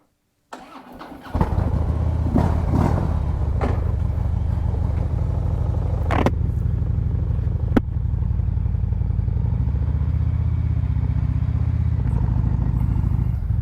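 A 2015 Harley-Davidson motorcycle fires up and settles into a steady, loud, close rumbling idle with a few mechanical clicks and clunks along the way.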